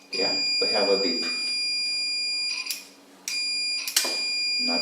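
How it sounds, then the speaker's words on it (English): A high, steady electronic beep from a multimeter continuity test sounds in long sustained tones that cut off and restart, with people talking over it nearby. "we have a beep"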